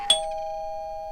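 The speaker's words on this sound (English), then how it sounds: "people will be ringing your doorbell" A doorbell chimes once, a sharp strike followed by a clear sustained ringing tone that slowly fades, with nothing else heard.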